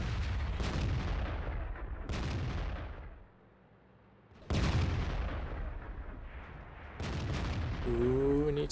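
Artillery fires in the World of Tanks video game, with a few loud booming shots that decay into long rumbling tails, a brief lull between them, and some game interface tones near the end.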